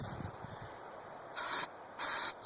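Aerosol spray is shot into an old engine before a cold start in two short, close hissing bursts separated by a brief pause, after faint rustling at the start.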